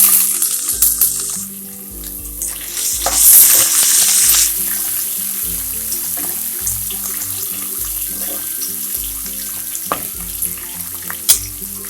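Green chilies and cashews frying in oil in a pan for instant upma mix, a loud continuous sizzle broken by rhythmic scraping and stirring strokes, with no talking.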